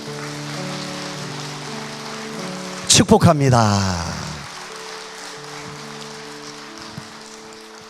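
A church congregation bursts into applause as a blessing for first-time visitors, a loud clapping swell rising mid-clip and fading over a few seconds, with a sustained organ or keyboard chord playing underneath and a voice speaking.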